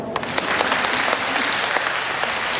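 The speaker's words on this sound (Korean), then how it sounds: "네, 박수 한번 주세요." Dense, steady applause from an audience at a summer talk event about a panda family, with many hands clapping continuously and close throughout the short stretch.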